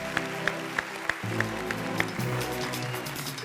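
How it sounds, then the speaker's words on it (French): Audience applause for a guest arriving on a TV show set: clapping from a crowd builds and carries on steadily, with a rhythmic beat and music underneath. "applaudissez pour Gisèle là"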